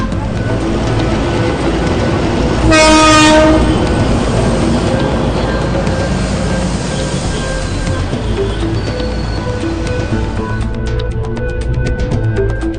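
A crowded passenger train in the Philippines rumbles loudly and continuously, with a brief high tonal whine or horn-like tone early on and clattering noise toward the end.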